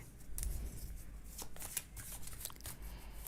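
Tarot cards being shuffled by hand: a steady papery riffling and sliding that runs close and fairly quiet for a few seconds, with no voices.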